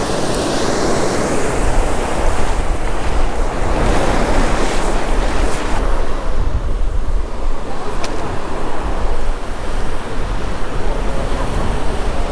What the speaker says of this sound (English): Pretty sick little river cove.